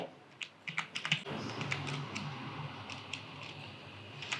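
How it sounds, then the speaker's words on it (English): Fingers type on a computer keyboard in a quiet room, first as a burst of crisp, separate keystrokes and then as softer, irregular clicks over a low steady hiss. "I will go to my untitled file and I will start typing"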